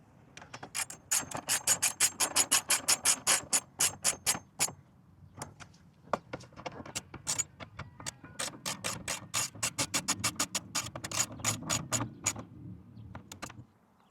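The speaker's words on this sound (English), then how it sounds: "Tighten up all the bolts, make sure everything's snug" A hand ratchet tightens bash plate bolts on a Honda CRF300L Rally motorcycle, giving rapid, evenly spaced clicking strokes in several runs with short pauses between them, close and clear.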